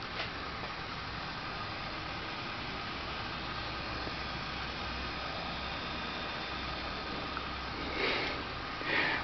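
A pair of small Chennic DC-DC converters give off a steady, quiet electrical hiss that runs unbroken for nine seconds, with a couple of brief louder rustles near the end.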